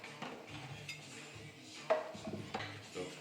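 Dry garlic cloves are crushed under a knife while cooking rougail saucisse. A few quiet knocks and a firmer pressing crunch come near the middle of the short, quiet stretch, with no speech.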